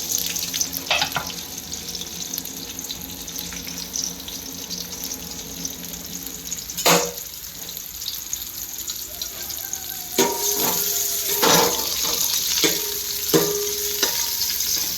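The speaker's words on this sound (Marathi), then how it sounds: "इथे आधी आपण कांदा टाकून घेऊ" Onion and green chili fry in a pan for a home-made biryani, a steady hiss of sizzling oil running throughout, punctuated by several sharp metallic knocks and scrapes of a spoon against the pan toward the end.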